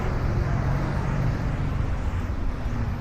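Road traffic streams toward the Gowanus Expressway ramps at 65th Street in Brooklyn, a dense steady rumble of engines and tires heard nearby from the sidewalk.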